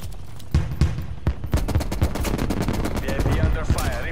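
Rapid automatic gunfire aimed at a VIP in a shooter video game, a dense clatter of shots that runs the whole time, with some bursts louder and nearer than others.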